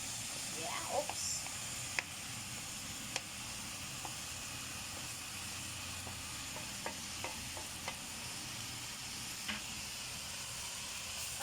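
Fresh tomatoes and onion sizzle steadily in a hot pan, a soft continuous frying hiss broken by occasional light clicks and stirring scrapes of a utensil.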